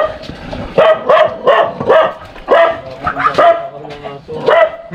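A dog barks repeatedly and loudly close by, a rapid series of sharp barks and yips heard on an outdoor walk near a bridge.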